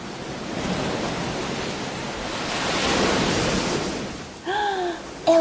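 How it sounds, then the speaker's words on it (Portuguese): Sea waves surge and wash in a broad roar that swells and recedes, followed by a few short synthetic tones near the end. "É o som do mar."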